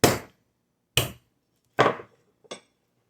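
Whole spices for German sauerbraten being cracked, four sharp separate knocks spaced roughly a second apart, each a crisp close impact with a quick decay into silence.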